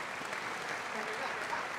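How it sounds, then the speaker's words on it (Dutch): Audience applause after a chamber music performance of Turina's sextet for viola, piano and string quartet, a steady, dense clapping from a crowd that carries evenly through the whole moment. "En er mag terecht meer van het applaus worden genoten."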